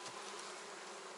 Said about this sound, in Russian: Вот семья сильная. Вот сколько пчел.